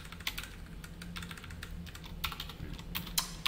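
Steady clicking of a computer keyboard as code is typed, light irregular keystrokes close up with small bursts and pauses, no voice over it.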